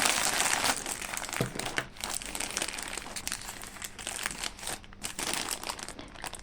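Plastic packaging from a Temu delivery being opened, with continuous close crinkling and crunching throughout, fairly loud and steady with small bursts, no talking.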